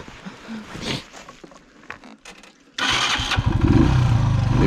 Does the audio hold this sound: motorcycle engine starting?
yes